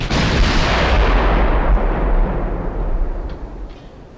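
Heavy battleship main guns fire in the naval warship game Ultimate Admiral Dreadnoughts, a loud, sustained booming roar with deep rumble that rolls on for several seconds before slowly fading.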